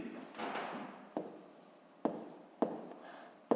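Pen or pencil scratching on paper while working a fifth-grade math exercise, a few short strokes with sharp starts and quiet gaps, close and soft with no talking.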